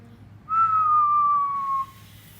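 A single clear whistled note, held steadily for just over a second with a slight downward drift, then cut off.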